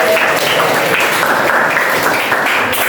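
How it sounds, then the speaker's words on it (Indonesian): Classroom applause for a winning student group, a steady dense wash of clapping filling the whole stretch at even loudness with no pauses. "Tepuk tangan untuk kelompok A."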